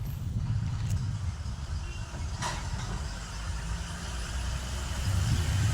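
Large vehicles and dumper trucks rolling past on a nearby highway, a continuous low rumbling drone with a passing swell, steady and fairly close, no voices.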